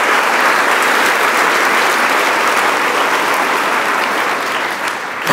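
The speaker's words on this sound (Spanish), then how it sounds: "Y déle un aplauso a este Dios precioso y santo." A church congregation bursts into loud, sustained applause, a thick wash of clapping that holds steady for several seconds before easing slightly at the close.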